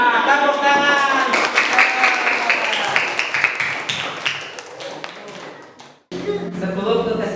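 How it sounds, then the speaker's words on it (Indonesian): Students in a classroom lesson clap together, a lively burst of hand claps mixed with children's voices and chatter that thins out, stops abruptly, then noise resumes. "Wah, tepuk tangan."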